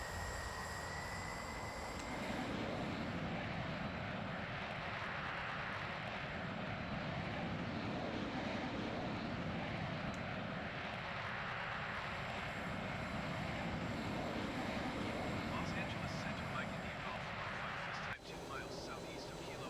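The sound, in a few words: MiG-15 turbine jet engine in Microsoft Flight Simulator video game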